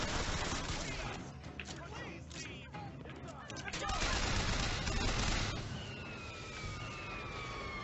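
Gunfire in the BioShock video game, bursts of shots and crashes in a dense, loud combat mix, with voices talking over the fighting.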